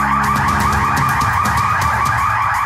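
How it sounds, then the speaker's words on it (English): A fire alarm blares continuously inside a building with a loud, rapidly pulsing electronic tone, harsh and close, with no voices. "Fire alarm's just gone off, so everybody has to evacuate the building."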